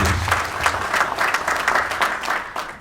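An audience claps steadily and enthusiastically, a dense burst of applause from a crowd indoors, with no talking over it.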